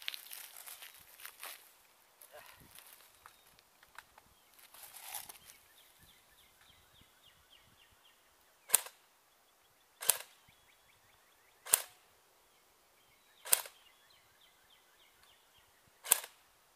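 An AK-47 RIS rifle fires five sharp, evenly spaced semi-automatic shots at a distant target about 150 feet away, each crack standing alone against quiet, after some faint handling noises.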